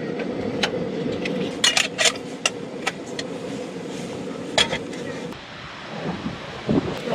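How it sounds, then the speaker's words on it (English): Gusty wind buffets a parked car at a beach, a steady rushing roar with sharp knocks and rattles as the car shakes, heard close from inside. "Whoa, we got some wind coming today."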